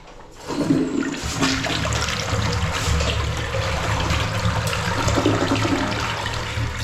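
A newly installed one-piece toilet flushes nearby, a sudden loud rush of water that settles into a steady gushing and trickling refill lasting several seconds.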